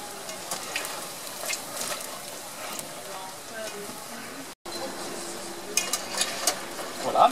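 Churros cook in hot oil in a deep fryer, giving a steady, faint bubbling sizzle with occasional clinks of utensils and a brief dropout midway.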